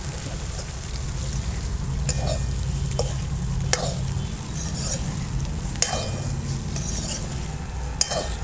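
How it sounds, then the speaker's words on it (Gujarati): Okra is stirred into a hot pan and fries with a continuous sizzle, and sharp scraping clicks from the spoon come every second or two, close and steady with no talking. "આવો ભીંડા નાખી દઈએ. બધું બરાબર મિક્સ કરી દઈએ."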